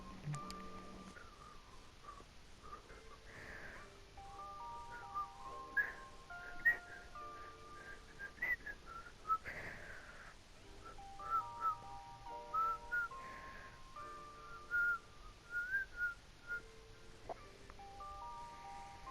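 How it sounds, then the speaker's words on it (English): A person whistles a song, a melodic run of clear tones with short pauses between phrases, fairly quiet and close with no talking. "Why are you whistling"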